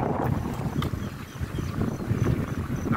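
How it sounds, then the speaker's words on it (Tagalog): Strong wind roars steadily across the microphone during a bike ride at about 17 km/h, a continuous buffeting rumble with no voices. "Lakas ng hangin."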